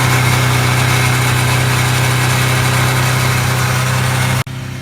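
A motorcycle engine with loose piston rings idles in winter storage with a steady, loud mechanical hum and a strong low tone, then abruptly cuts off near the end, with no talking.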